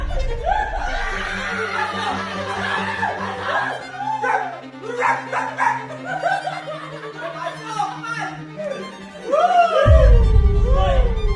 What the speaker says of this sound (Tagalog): Eh, yung aso ngayon nagkakagano.